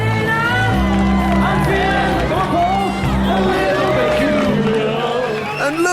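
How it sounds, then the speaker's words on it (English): Crowd at a rock concert in Shillong, India, cheering, whooping and shouting loudly and continuously over the band's steady amplified music, with a dense wash of voices throughout. "look, the crowd are loving it"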